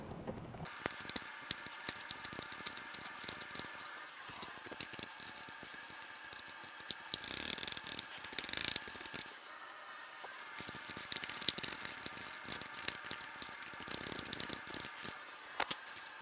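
A short 10mm wrench works a bolt loose on a BMW R80 RT motorcycle, giving quiet, close ratcheting clicks in irregular bursts with small metallic taps and shuffles between them.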